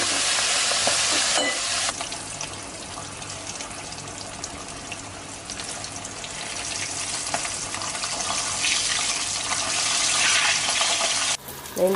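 Fish frying in hot oil in a wok, a loud steady crackling sizzle with stirring and scraping, ending in a brief clatter.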